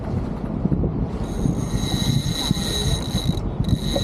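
Blue sheet rope on a racing sailboat during a ladies' helm regatta in Victoria Harbour is eased through pulley blocks, giving a close, continuous mechanical whirring and ratcheting over steady wind noise.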